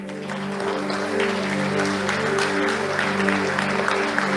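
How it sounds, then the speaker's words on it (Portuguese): A church congregation applauding during a service, continuous crowd clapping laid over a sustained organ-like musical drone. "Vamos aplaudir o Senhor?"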